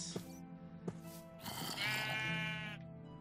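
Sheep in the video game Minecraft let out quiet bleats, two short ones followed by a longer wavering bleat, against a soft game background.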